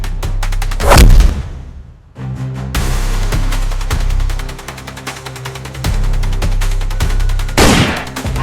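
Gunshots in an Indonesian film trailer for Preman Jatuh Cinta crack out as loud bursts near the start and end, over a dense, booming soundtrack.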